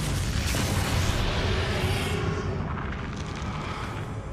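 Bombarda blasting spell detonating in a PC video game, a dense, sustained rumbling explosion with heavy low-end boom that rolls on for several seconds with no talk over it.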